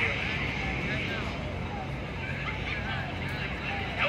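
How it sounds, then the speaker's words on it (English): A fast military jet passes overhead at an outdoor Trump campaign rally in Pennsylvania as a loud, sweeping roar that stays steady under crowd noise and the murmur of talk. "That was a fast plane."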